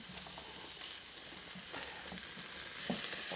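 Parma ham is added to browned onions in a hot pan, and a continuous bright sizzle runs throughout with faint stirring clicks underneath.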